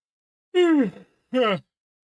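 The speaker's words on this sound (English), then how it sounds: "I can't even say it without yawning" A person gives two drawn-out voiced yawn-like exhalations, each falling in pitch, the first longer, separated by a short pause in otherwise quiet surroundings.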